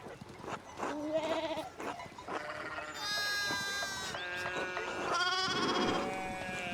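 Sheep bleating in the video game Pentiment, several overlapping wavering bleats from a small flock, close and fairly loud, coming in repeated calls with no talking.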